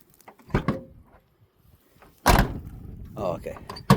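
An old truck door in a junkyard creaks and slams shut, two solid knocks a couple of seconds apart, close by, with someone talking between them.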